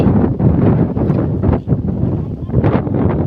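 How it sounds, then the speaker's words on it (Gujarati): Strong gusty wind buffeting close by, roaring in uneven surges with a brief lull midway. "અત્યારે વાટ વાવ્યા ને પવનનો અવાજ બહુ આવતો હોય છે"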